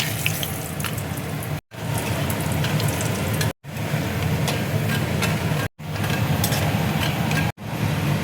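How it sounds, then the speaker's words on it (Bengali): Bori, small lentil dumplings, frying in hot oil in a home kitchen, a steady dense sizzle that keeps going alone at an even loudness, cut by a few brief silent breaks. "এবার আমি বড়িটা ভেজে নেব।"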